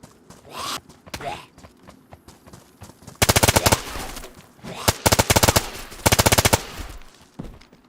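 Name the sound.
gunfire from a gun in video game DayZ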